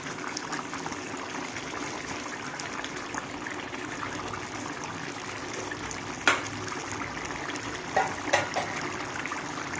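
A pot of curry with curry leaves and coriander simmering on a stove, a soft steady bubbling and trickling with a few sharper pops near the end.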